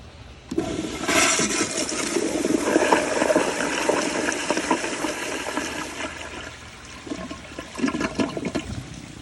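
Kohler Kingston toilet with a Water Guard 1.6 gallon flush valve, a sudden loud rushing flush that roars for several seconds and then trails into gurgling and refill water, close up with no talk.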